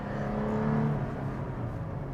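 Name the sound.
2021 Toyota 4Runner Venture TRD Pro engine growl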